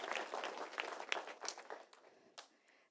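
An audience at an education centre claps for a student, a moderate burst of mixed hand claps with distinct individual slaps that thins and fades toward the end.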